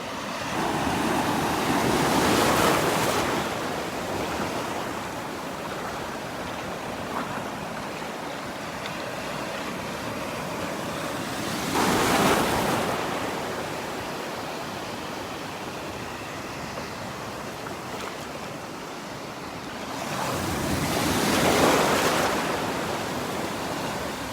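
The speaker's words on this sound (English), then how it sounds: "the waves are building." Ocean surf breaks on the beach at Pawleys Island, with three big wave crashes spaced about ten seconds apart over a constant roar of wash and wind noise, loud and near.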